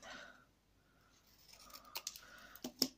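Scissors trim a strip of card paper for a crafting project, a few quiet close snips and crisp cuts clustered near the end after a near-silent stretch.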